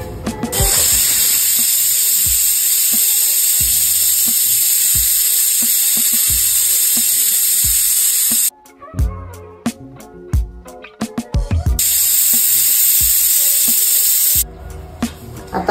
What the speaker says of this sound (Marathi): फास्ट गॅसवरती 2 शिट्ट्या पण करून घ्यायच्या आहेत